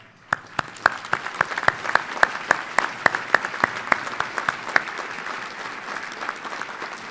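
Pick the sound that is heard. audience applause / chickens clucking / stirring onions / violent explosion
audience applause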